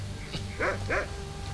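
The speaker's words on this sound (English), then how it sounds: "Not a wolf or hellhound, it's an actual dog." Two quick yipping barks from a dog in Skyrim, close and clear over a steady low hum of game ambience.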